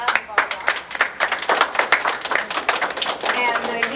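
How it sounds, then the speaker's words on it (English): Volunteers clap for themselves in a room, with loud, uneven, close claps from a smallish group and voices mixed in throughout. "give yourself a big hand of applause"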